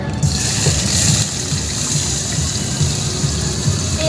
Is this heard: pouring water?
yes